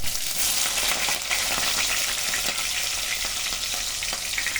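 Green chillies and onion sizzle and crackle steadily in hot oil in a pan while making Korameenu fish curry, a dense continuous fry with occasional stirring scrapes and no voices.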